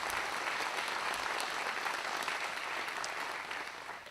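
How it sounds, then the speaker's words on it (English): Strong audience applause at a regional commercial air service launch ceremony in East Kentucky, a full steady clapping crowd that tapers slightly at the end. "Representative Combs deserves a tremendous round of"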